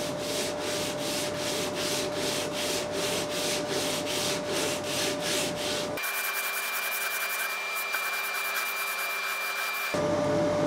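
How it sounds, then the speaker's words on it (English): Steady rhythmic strokes of a radiused sanding block on a wooden guitar headstock veneer, back and forth at an even pace, with a continuous abrasive rasp close up. "And I'm just going to be sanding up and down evenly"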